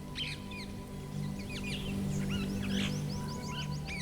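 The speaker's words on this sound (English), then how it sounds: "The birds, the gentle breeze, the rustling of branches." Several birds chirp and trill outdoors over a low background hum, their calls scattered and fairly faint.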